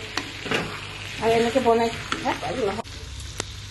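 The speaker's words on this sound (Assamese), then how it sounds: "এয়া কলিজাটো ভাজি ল'লোঁ" Mutton liver sizzling and frying in a pan, a close crackling hiss running through the moment, with a voice speaking over the cooking.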